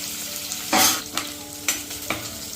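Vegetables frying toward golden brown in a pan for a palak methi pulao: a constant sizzle with several sharp bursts of stirring and scraping at irregular intervals, close and fairly loud.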